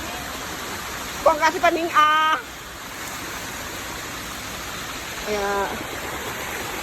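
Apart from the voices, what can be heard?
waterfall flowing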